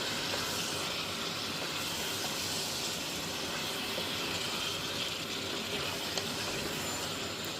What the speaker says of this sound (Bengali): তো আমি আগে চিকেনটাকে কষিয়ে নিচ্ছি।